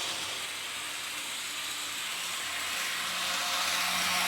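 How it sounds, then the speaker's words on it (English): Athearn FP-45 model passenger train locomotive running at full speed on a Christmas layout, giving off a steady, close hissing whir of motor and wheel noise that swells slightly toward the end. "When you go full speed with the Athearn, that's when it starts to make a little noise."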